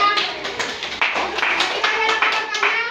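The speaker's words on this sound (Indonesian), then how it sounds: "kita beri tepuk tangan dulu untuk kelompok 3" Classroom clapping for a student group after their presentation, a short burst of close, fairly loud claps mixed with voices talking over it in a lively room.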